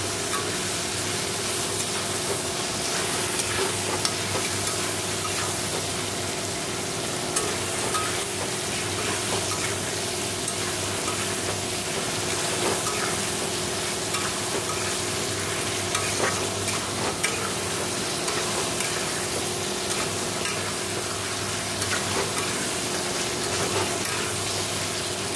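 Masala with cumin powder sautéing in a pan, a dense continuous sizzle with steady stirring and scraping throughout, fairly close and alone without talk.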